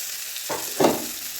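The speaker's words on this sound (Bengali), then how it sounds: "পেঁয়াজের রসুনটা ঠিক এরকম যখন ভাজা হয়ে যাবে" Onion and garlic frying in a pan, a steady sizzle with a couple of stirring scrapes partway through.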